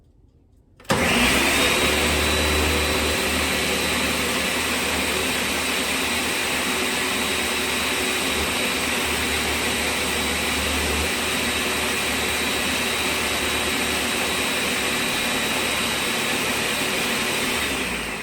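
A Ninja blender whirs loudly and steadily for many seconds after switching on abruptly, a constant high-pitched motor roar with no talking.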